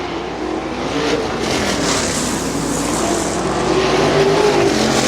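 Sprint cars, winged and non-winged, roar around a dirt track at Butler Battlegrounds in Quincy, a steady loud engine drone swelling slightly as the field passes, with no talk over it.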